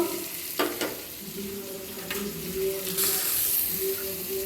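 Onion and garlic fry in a pan while being stirred, a steady hissing sizzle with occasional scraping strokes and faint background sounds.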